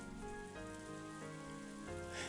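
Steady rain falls on a rose garden in the game Umineko, a soft continuous hiss beneath gentle sustained musical chords that shift every half second or so.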